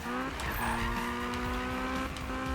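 A riced-out Civic drifts in a racing video game, tires squealing in long sustained tonal screeches over a loud, continuous engine drone, the squeal wavering in pitch as the slide holds.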